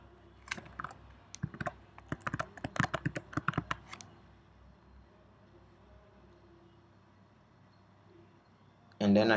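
Keystrokes on a computer keyboard as an email address and password are entered, a quick irregular burst of close clicks for about four seconds, then quiet and a brief loud bump at the end.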